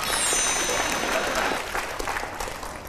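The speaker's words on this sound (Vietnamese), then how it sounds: "Một tràng pháo tay cho anh Quyền Linh." Studio audience on the Vietnamese dating show Bạn Muốn Hẹn Hò breaks into dense, steady applause for the TV host, loud and sustained throughout before easing slightly toward the end.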